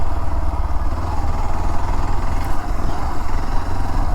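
Motorcycle engine running steadily at close range while riding along a cement road, a continuous low, slightly rough drone with no pauses and no talk.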